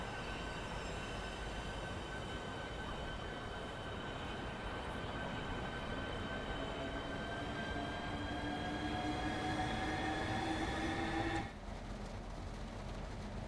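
Southeastern Class 395 high-speed train running in the Train Sim World 2 game, a steady loud rumble with whining tonal hum and rising electric motor tones, continuous throughout before a brief drop near the end.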